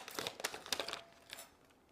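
Brief crinkling as a holographic sublimation wrap is peeled off a freshly pressed 20 oz tumbler, a few close crackles over about a second and then fading quiet.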